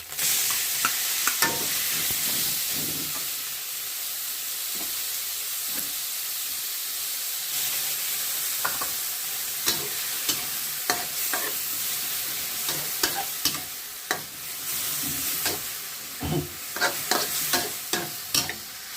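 Marinated pork for Thai pad kaprao stir-fries in a hot pan, with a loud continuous sizzle and hiss, steam bursts, and repeated scraping and clattering of the spatula that grow more frequent toward the end.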